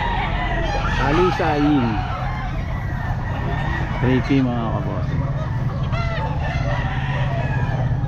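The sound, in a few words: white kelso rooster crowing at Bocaue pet market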